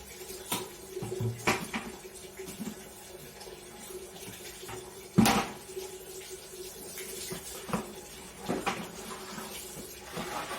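A tap runs while a container fills at a home sink, a soft steady trickle under scattered clatter, with sharp knocks and bangs of household items standing out, one loud thump near the middle.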